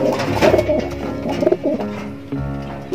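Racing pigeons coo close by in soft, throaty, rolling bursts, several overlapping calls in quick succession over a brief span.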